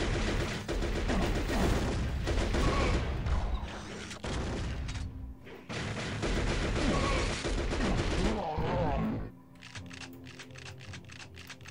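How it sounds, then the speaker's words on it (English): Heavy shotgun blasts and rapid weapon fire in the Turok Rage Wars shooter, dense loud volleys that pause briefly and then give way to sparser shots. "I hear that shotgun."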